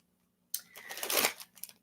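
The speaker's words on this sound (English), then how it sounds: "let's get some shuffles going for Scorpio" Tarot cards are shuffled up close, a quick riffling flutter of paper that rises and fades over about a second after a silent start, with no talk.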